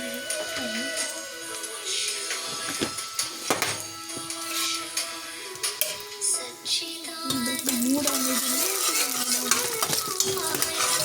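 Chana dal and urad dal crackle and sizzle in a pan for rava upma, with a spoon scraping and stirring, while people talk over the cooking throughout.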